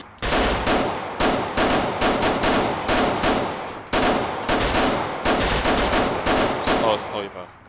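A suspect in the police video game LSPDFR fires repeated bursts of loud, close gunfire, several rapid volleys in quick succession with brief pauses between them.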